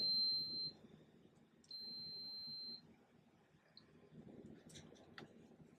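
An HTVRONT phone case heat press gives two sustained electronic beeps after its start button is pressed, the first short and the second lasting about a second, with quiet handling noise in the background.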